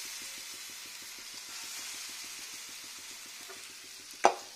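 Khoshla bora fritters fry gently in oil over a medium flame, giving a soft, steady bubbling sizzle with faint regular popping, and one brief sharp clatter near the end.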